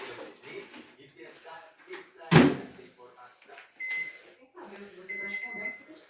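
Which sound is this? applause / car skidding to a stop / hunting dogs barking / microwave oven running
microwave oven running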